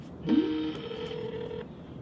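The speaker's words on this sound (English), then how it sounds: "I'm receiving the call on my side, so I'm going to click answer." An incoming Skype call rings on a phone as a single steady electronic tone with a short rising chirp at the start, lasting just over a second over faint background hiss.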